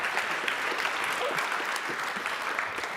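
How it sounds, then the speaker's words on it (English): Steady, dense audience clapping from a large crowd at a Berlinale Talents 2025 talk, continuous and fairly loud for the whole stretch with no voices over it. "You can show that by clapping"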